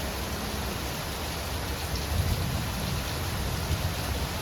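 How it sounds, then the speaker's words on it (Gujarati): Heavy rain pouring down during a storm: a dense, even wash of noise with low rumbling swells, fairly faint and constant, no talk. "વરસાદ તો ફૂલ ચાલુ થઈ ગયો છે"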